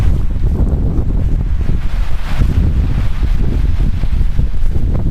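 Strong, violent wind roars without a break for several seconds, loud and close, buffeting steadily with no voices.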